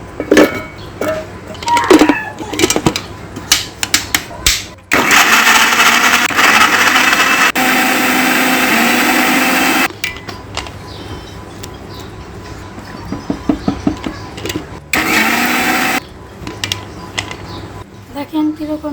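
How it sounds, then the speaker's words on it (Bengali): A blender whirs loudly as it purées washed mangoes in a village kitchen, running in one sustained burst of roughly five seconds and then a shorter burst, with clattering handling noises between. "এখন এই আমগুলোকে ব্লেন্ডার করে নিব।"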